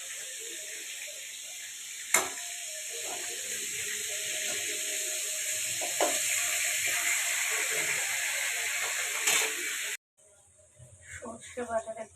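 Hilsa fish frying in a pan, a steady hissing sizzle with a few sharp clatters, loud throughout, then it stops and faint clinks and voices follow.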